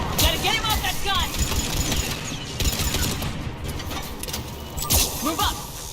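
Bursts of rapid gunfire and explosive cracks from a mountain gun in the Mass Effect 3 video game, loud and chaotic amid battle noise, with a voice shouting over the combat.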